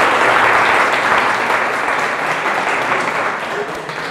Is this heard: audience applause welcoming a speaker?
yes